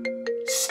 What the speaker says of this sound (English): David, turn your phone off!